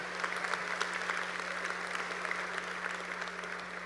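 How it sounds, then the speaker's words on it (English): Sustained audience applause fills a high school graduation ceremony hall, a steady wash of many hands clapping at moderate volume with no breaks or voices. "let's give a round of applause for our PTSA and our Tom Carson Award"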